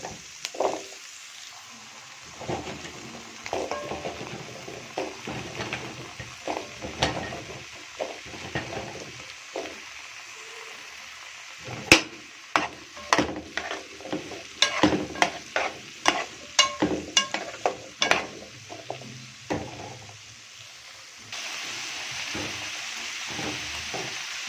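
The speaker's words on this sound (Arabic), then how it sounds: "نديها تشويحة، هنزل بالبطاطس" Sausage and potatoes stir-frying in a pan: a low sizzle under repeated scraping and clattering of a utensil, irregular bursts of stirring that cluster mid-way then ease into a steadier sizzle, close and with no talking.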